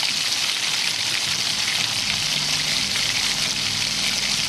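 Mustard and cumin seeds crackle in hot oil in a kadhai, a close, steady, dense hiss of fine popping that holds at an even level with no voices.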